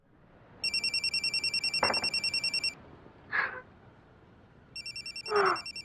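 A phone ringtone trills in two bursts of rapid electronic pulses, with a short knock and a couple of brief sounds in between, over a faint hiss.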